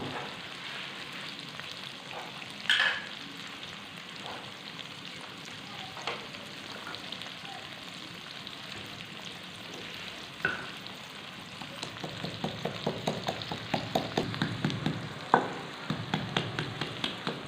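Onions fry in oil in a pan until brown for aloo gobhi, giving a steady, soft sizzle with occasional clinks. Toward the end, a rhythmic tapping runs over the frying.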